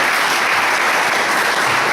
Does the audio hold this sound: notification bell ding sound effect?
no